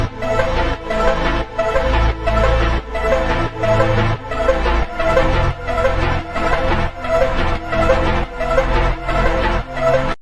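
Synthwave loop built from chopped, retimed Splice arpeggio and chord samples, dense and sustained with a steady pulsing rhythm across the whole stretch, loud and up front with no talking.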